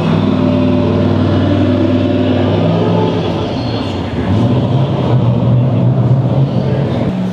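A Tatra T87 engine runs steadily and loudly at a car museum exhibit, a continuous mid-low mechanical drone with a slight swell partway through, alone without talk.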